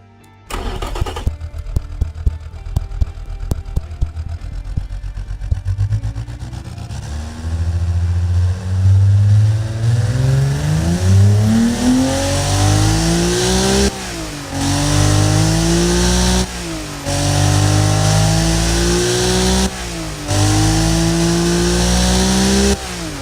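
A turbocharged car engine in BeamNG.drive cranks and catches, then revs hard in repeated loud, rising sweeps separated by brief drops, running alone and close throughout.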